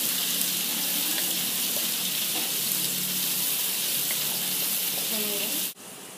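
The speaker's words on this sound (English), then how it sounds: "She adds some prawn into the pot and fry it with the garlic." Prawns frying with garlic in a pot give a constant close hiss and sizzle with a few faint clinks, cutting off abruptly near the end.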